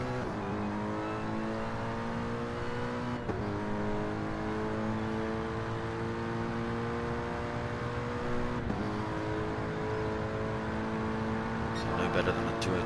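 A racing car's engine drones steadily through laps at a sponsored team event, holding a sustained tone with brief shifts as it passes through corners.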